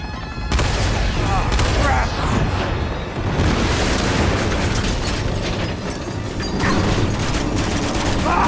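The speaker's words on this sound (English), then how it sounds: "Looks like they're prepping for their rocket attack again." Rocket attack explosions in Uncharted 2, a sustained loud barrage of booms and crumbling debris roaring continuously, with game voices mixed underneath.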